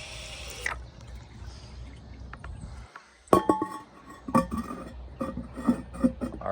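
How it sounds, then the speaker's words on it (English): Water rushes and gurgles in an overfilled tank of a 2012 General De Ceramica toilet, with a clunk of the flush, then trickling, dripping and refilling sounds close by. "here's an overfilled tank flush"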